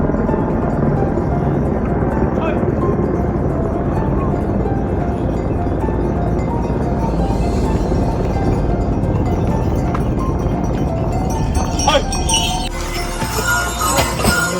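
A helicopter flies over the Kedarnath pilgrimage trail in the mountains, a loud steady roar that fills the whole stretch, with occasional clinks and clatter from the trail mixed in.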